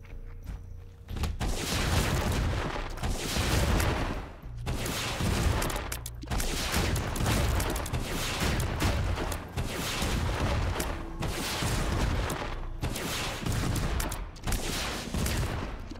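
Rapid rocket-bomb explosions in The Binding of Isaac, a dense, continuous barrage of loud booming blasts and crackling impacts filling the whole stretch with only brief dips.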